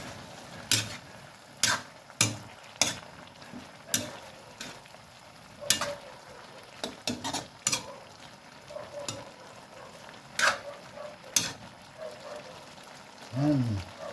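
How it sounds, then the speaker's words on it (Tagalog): Ginataang kalabasa with malunggay, tinapa and lemongrass is stirred in a pot, the spoon knocking and clinking against the metal in irregular close taps over a soft simmer. "halo-halo natin mga kapising."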